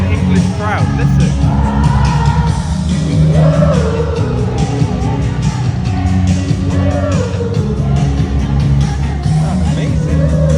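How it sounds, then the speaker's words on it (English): A large English concert crowd sings along loudly and continuously, a dense wash of massed voices with scattered whoops and yells rising over the steady roar. "This is an English crowd"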